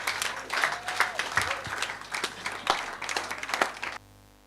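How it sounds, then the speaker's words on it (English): Audience applause at a live-streamed event, a burst of clapping that rises and falls for about four seconds before cutting off abruptly, with some vocal noise mixed in. "A round of applause"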